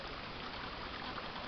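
Creek water flows in a steady, continuous rush and trickle, close and even, with no voices or other sounds over the short stretch.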